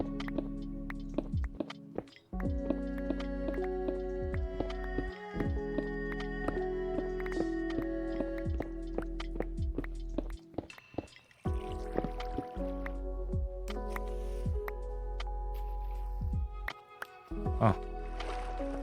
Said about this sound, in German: Ich höre das Wasser eben